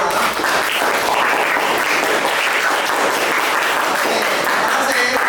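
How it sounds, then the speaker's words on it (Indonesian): A classroom of students claps together in a loud, dense, continuous round of applause that holds steady throughout, with faint voices mixed into the noise. "Luar biasa, tepuk tangan untuk kalian semua"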